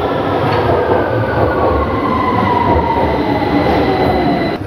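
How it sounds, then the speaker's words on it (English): A London Underground train runs from Stockwell toward Brixton, a loud steady rumble of wheels on rails with faint high squeals and a tonal whine, close and continuous, no talk. "I'll jump on this train."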